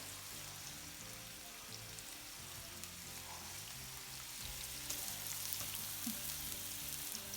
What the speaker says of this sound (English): It's just sauteing onions and garlic.